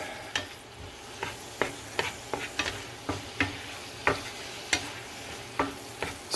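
Beef and onion frying in a pan while being stirred, a steady sizzle broken by about fifteen sharp utensil scrapes and taps at irregular intervals, close and moderately loud, with no talking.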